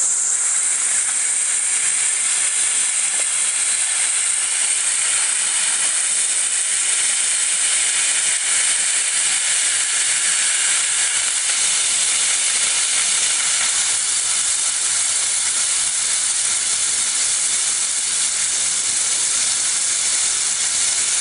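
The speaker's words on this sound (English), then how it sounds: "Now the steam is really coming out. It's a steady stream of steam, and it's pushing." Continuous loud steam hiss from a pressure cooker making vegetable broth, a steady bright rushing jet that holds constant without pause.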